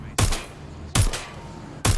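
Three loud single gunshots fired at a gas tank in Watch Dogs Legion, evenly spaced about three quarters of a second apart, each with a short reverberant tail.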